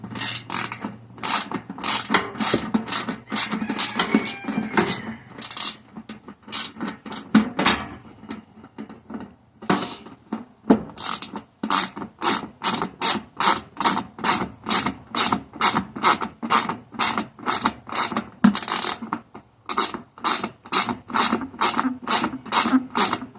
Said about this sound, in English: Tighten our bolt up.